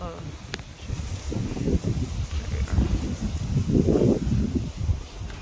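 Gusty wind buffets the microphone with low rumbling, rising and falling throughout, while a person talks quietly outdoors in a garden in Corpus Christi, Texas.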